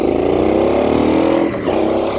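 A Triumph Street Scrambler 900 motorcycle engine pulls hard under acceleration, a loud, steady, close-up drone with dense harmonic texture that dips briefly before carrying on, with no talking.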